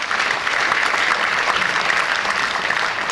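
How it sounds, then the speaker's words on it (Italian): An audience at a hometown tribute event honoring violinist Bismarck Mantovani in Taglio di Po breaks into sustained applause, a broad, even rush of many hands clapping continuously for several seconds. "Applauso, mi unisco anch'io con le mani impegnate."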